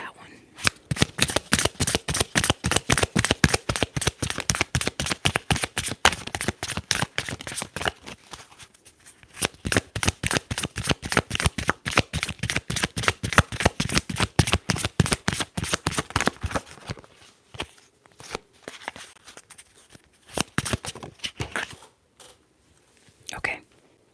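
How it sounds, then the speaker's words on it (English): Tarot cards being shuffled in a rapid, steady riffle of crisp flicks, close and loud, slowing to scattered taps near the end. "We're going to go ahead and shuffle for that one."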